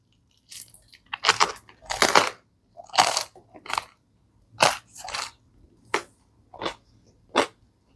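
Loud, close crunching of crispy Pizza Hut crust from a Thai pizza topped with chicken, a series of about a dozen sharp, dry bites and chews in uneven rhythm over faint room hum, with no talking.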